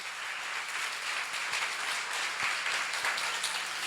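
Congregation applause at a church seminar on Ezekiel, a steady, even wash of many hands clapping at moderate level throughout, without anyone speaking.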